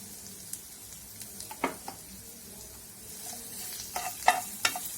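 Boiled-potato filling with turmeric and salt is stirred and sautéed in a pan, a soft continuous sizzle broken by scattered scraping spoon strokes, with louder clustered scrapes toward the end.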